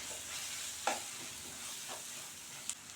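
Chili powder and spices sautéing in oil for a Tamil paruppu urundai kuzhambu, a faint soft sizzle with a few brief scrapes of a spoon against the pan.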